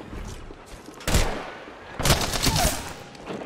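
Gunfire in a shooter video game crackles in two dense bursts, a short one followed by a longer, heavier volley, over a continuous low background of game ambience.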